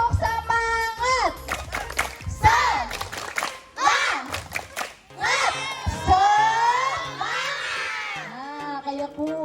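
A group of children in a playgroup classroom chant and clap together in a rhythmic spirit-clap routine, loud and close, with shouted syllables and sharp claps in bursts.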